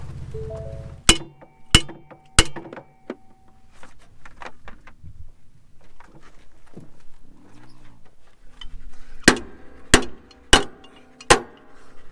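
Sharp metallic hammer strikes from a poor-quality hammer ring out in two groups, three evenly spaced blows early on and four more later, with quiet shuffling between.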